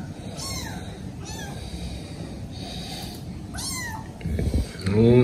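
Orphaned kittens meow in thin, rising cries at a steady pace while nursing on a poodle, close to the listener, with a louder shuffling and snuffling rustle near the end.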